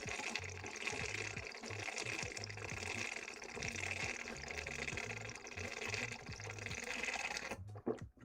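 Water is poured steadily at a close distance, making a continuous fairly faint gush with a rhythmic low burble. It ends with a short clunk.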